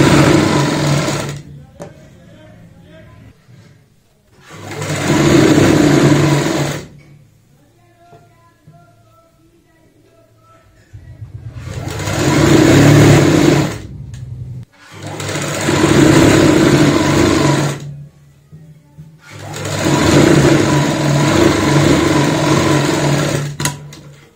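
An electric sewing machine stitches a round seam on a child's frock in several loud, close bursts of steady whirring separated by quiet pauses, with faint speech in the gaps.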